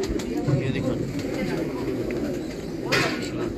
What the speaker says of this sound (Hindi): ये चैंपियन कबूतर है